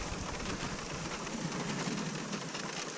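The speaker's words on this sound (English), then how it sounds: "there's thunder all around me." Storm at Panguitch Lake, Utah, with steady heavy rain hissing on surfaces and low rumbling thunder throughout, close and loud, with no talk.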